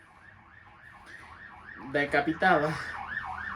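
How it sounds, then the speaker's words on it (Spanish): An ambulance siren wails in a steady rising-and-falling cycle for the whole stretch, loud and close, while a voice speaks briefly over it near the end. "y la ambulancia pasaba así, igualito."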